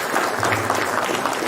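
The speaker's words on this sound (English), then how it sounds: "we give Brother Jonathan and Brother Sabir a round of applause if you would?" An audience at a mosque gathering claps steadily, a dense, even patter of many hands heard close and without talk for its whole brief span.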